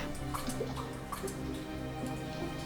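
Water dripping in a volcanic cave in the 2001 PC game Dinosaur World, faint irregular drops plinking over a low hollow ambient hum, several drops spaced unevenly.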